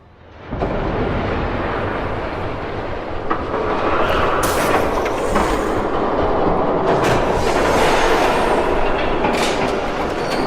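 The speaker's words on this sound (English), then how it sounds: "There's a train coming." A train rumbles past in the Batman Telltale Series video game, a loud and steady roar of rolling wheels and rattling cars that holds for about ten seconds, with brief high screeches and clanks rising over it.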